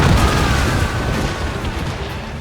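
Ship cannon fire in a naval battle in Assassin's Creed Rogue, a loud booming blast that rolls off into a rumbling decay.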